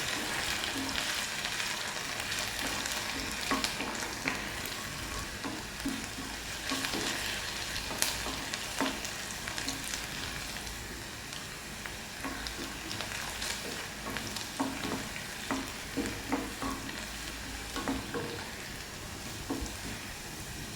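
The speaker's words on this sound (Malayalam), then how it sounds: "ഇഞ്ചിയും വെളുത്തുള്ളിയും നല്ലതുപോലെ ഒന്ന് മൂത്ത് വെക്കണം മൂത്ത് വരട്ടെ" Ginger and garlic frying in oil in a pan for a chickpea varattiyath, a steady loud sizzle with crackling pops and occasional stirring scrapes throughout.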